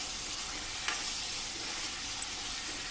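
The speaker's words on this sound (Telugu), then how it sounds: "చక్కగా ఆనియన్స్తో పాటు కొద్దిసేపు ఫ్రై చేసుకోవాలి." Raw prawns frying with onions in a hot pan give a steady, fairly faint sizzle with a couple of soft clicks from stirring, and no voices.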